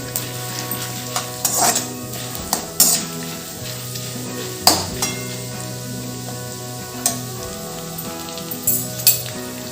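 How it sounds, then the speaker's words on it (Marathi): Roasted chana dal fries in hot oil alongside already-crisped curry leaves for a jowar murmura chivda. A steady, close sizzle runs throughout, broken by repeated scraping stirs and light taps of a spoon against the pan. "मस्त तापलेल्या तेलात मी डाळ्या टाकल्या आहेत"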